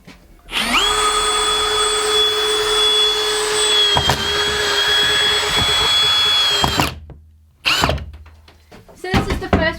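A power drill drives screws into battens for insulating an off-grid tiny house van: a loud, steady high whine lasting several seconds, then stopping, followed by shorter bursts and clatter.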